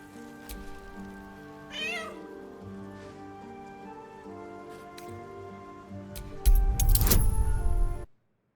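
A cat in Baldur's Gate 3 lets out a wavering meow near the two-second mark amid a droning game score, followed later by a louder burst of clattering, jangling sound before the clip cuts to silence.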